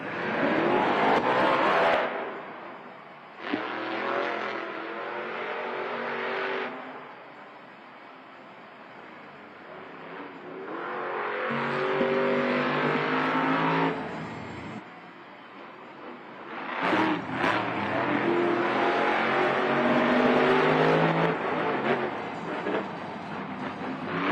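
Monster trucks at a Monster Jam stadium championship event in Salt Lake City roar loudly at the starting line, coming in heavy bursts separated by quieter lulls, with one truck stalling just after the start.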